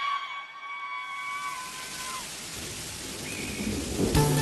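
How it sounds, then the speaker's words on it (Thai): Rain falls in a steady, dense hiss while low thunder rumbles underneath. A few sustained tones fade out early on, and the rain grows slightly louder near the end. "โอ้ฝนตก"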